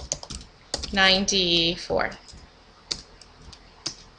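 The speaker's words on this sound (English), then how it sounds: "You have to excuse my typing." Computer keyboard typing during a place value math lesson, scattered clicks running under and between a narrator's speech.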